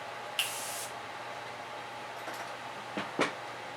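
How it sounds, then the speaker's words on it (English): A single short hiss of aerosol makeup setting spray, close and fairly loud, followed by a few faint clicks and handling sounds in a quiet room. "this is an actual aerosol spray"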